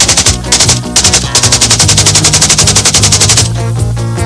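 Rapid bursts of automatic weapon fire, loud and close, a steady rattling stream of shots with brief pauses between volleys.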